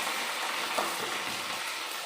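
Green chilies and chopped onion fry in a pan on a stove, giving a steady, close sizzle with a brief crackle partway through and no talking.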